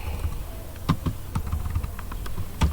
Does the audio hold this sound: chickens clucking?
no